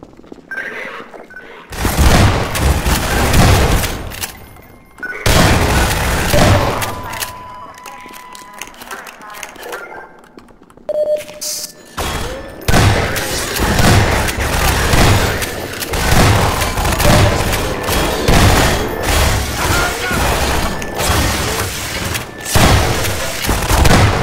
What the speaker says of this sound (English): using shotgun shells to destroy manhacks